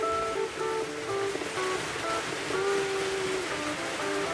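Steady, dense rushing of heavy rain fills the whole stretch, a broad constant hiss with faint tonal hums running through it and no talking.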